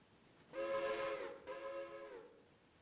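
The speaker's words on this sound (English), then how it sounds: "Sounds like the passenger train's coming in now too." A passenger train's steam whistle sounds in Railroader as it comes in, two sustained, fairly loud blasts in quick succession, the second fading out gradually.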